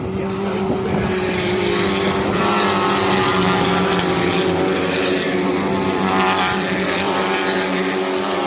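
Touring race cars roaring past on the Brands Hatch circuit during a BTRC Easter weekend race, a loud, continuous engine drone with rising and falling passes throughout.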